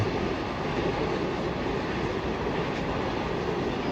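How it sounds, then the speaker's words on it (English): Continuous heavy rumble of a Danish goods train going by nearby, wagons grinding along the rails at a constant loud level with no talk over it. "And there goes another goods train."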